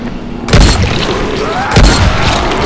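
Two heavy shotgun blasts from a double-barrel shotgun in the zombie game Dying Light, about a second apart, each a loud booming crack with a low thump, over constant game ambience.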